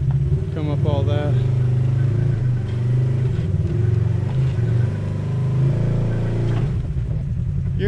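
Polaris RZR off-road vehicle engine rumbling steadily on a rocky trail, with the throttle gently bumped and eased, a continuous low drone under voices talking nearby.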